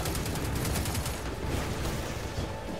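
Sustained rapid gunfire from a Destiny 2 firefight, loud and continuous bursts with a dense rattling texture, no talk.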